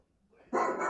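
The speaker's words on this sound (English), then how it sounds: "Hey Alexa, what does a dog sound like?" A smart speaker plays a dog bark: after a faint, quiet lead-in, a single short, bright bark sounds clearly and fairly close.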